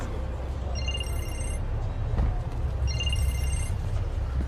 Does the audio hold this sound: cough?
no